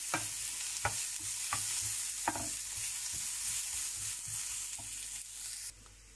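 Chicken spaghetti ingredients fry in a pan with a steady, close sizzle, broken by several sharp scraping stirs of a utensil against the pan; there is no talk.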